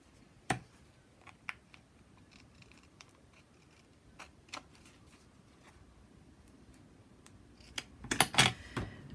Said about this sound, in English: What I'm going to do is use my scissors to just trim off those pieces.